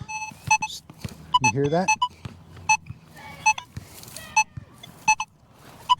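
A Nokta Legend metal detector gives repeated short electronic beeps at irregular intervals over targets in a park, with a warbling rising tone midway and someone briefly speaking between them.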